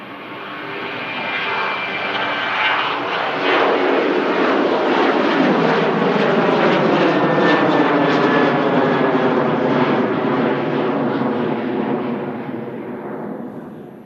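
A jet airliner taking off in thick fog at Manchester Airport, its engine roar swelling from a distance to a loud sustained rumble, then gradually fading as it climbs away.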